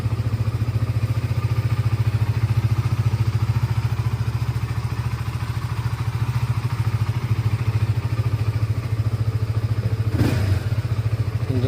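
A Honda CBR 150 motorcycle idles after a kill switch install, its engine putting out a steady, even close-up rumble with one brief clatter near the end.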